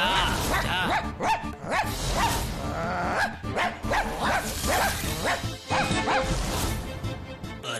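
A dog barks in a cartoon episode, with repeated bow-wow barks over busy background music and effects, loud and close throughout.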